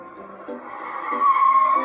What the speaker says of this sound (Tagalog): Tignan nyo, mayroong kotse.